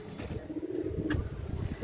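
A pair of Sialkot running pigeons coos softly nearby, a low, throaty rolling murmur over faint background noise in a short stretch.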